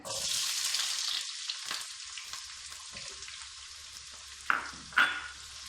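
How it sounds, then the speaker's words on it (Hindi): Chopped onions hit hot oil with a loud, bright sizzle that gradually settles to a quieter crackle, followed by two distinct spatula knocks against the pan near the end. "प्याज को हम इसी तरह फ्राई करेंगे।"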